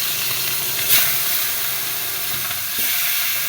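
Marinated fish fries in hot oil in a pan with a loud, steady, close sizzle and hiss, broken by a few faint taps and shifts and no voices.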